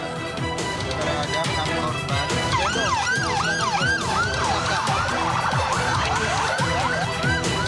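Several ambulance sirens from a six-vehicle convoy carrying victims of the Pacet landslide in Mojokerto, East Java, wail and yelp together, overlapping loudly and continuously above road traffic noise.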